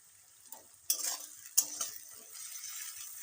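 Green chillies and onion frying in a pan, a faint sizzle with sharp metal clinks and scraping as a spoon stirs, a few distinct knocks standing out.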